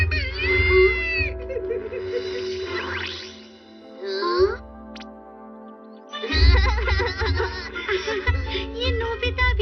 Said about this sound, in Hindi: डरावनी बिल्ली।